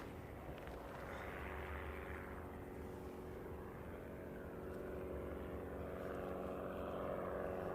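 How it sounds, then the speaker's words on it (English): A Piper training aircraft from Canterbury Aero Club at Christchurch Airport drones with a steady propeller engine hum heard from a distance, rising slightly toward the end with no talk over it. "So this is one of the training aircraft from Canterbury Aero Club. Piper, I believe."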